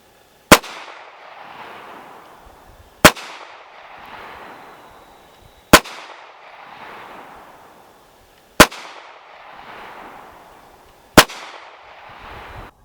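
Pistol shots from a Girsan Regard MC Gen 4, a Beretta M9 clone, ring out five times at slow, even intervals, each a sharp, loud crack followed by a short echoing decay, with no talking.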